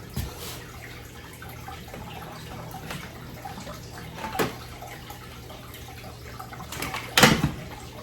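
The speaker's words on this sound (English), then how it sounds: "this will keep sucking water even though the pump isn't running" A continuous low gurgle and trickle of aquarium water still siphoning after the pump stops, with scattered drips and a couple of louder sloshes near the end. No talking.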